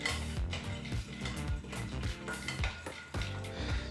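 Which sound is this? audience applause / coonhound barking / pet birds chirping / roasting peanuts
roasting peanuts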